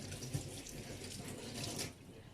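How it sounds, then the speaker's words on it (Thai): Hands are washed under a running tap, probably to rinse off greasy food, giving a steady, close splash of flowing water with a slight swell near the end; no speech is heard. "ล้างมือก่อน"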